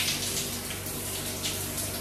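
Shower water pours steadily over a pair of AirPods Pro 2 earbuds, giving a dense, continuous hiss of spray with no breaks, close and fairly loud, with no talking.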